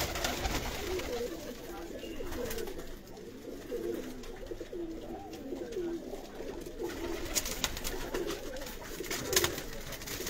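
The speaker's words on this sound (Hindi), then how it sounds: "जबरदस्त कबूतर है।" Pigeons coo softly in overlapping, repeated low burbling calls, with steady background noise and no clear speech.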